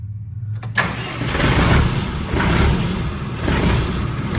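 A John Deere 3050 tractor engine cranks briefly and catches, then settles into a steady, loud diesel idle with slight rises in pitch, close by and with no speech.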